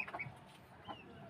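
Backyard chickens cluck in short, soft bursts, a few quiet calls scattered over a faint background with no talk.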